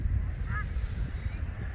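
A mother duck gives one short call over steady low outdoor rumble on a farm with new ducklings hiding in the grass.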